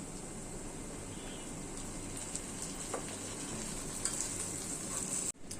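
Onions fry in oil with turmeric, chili and salt in a home kitchen, a soft continuous sizzle with faint stirring scrapes, steady and fairly quiet throughout with no talking.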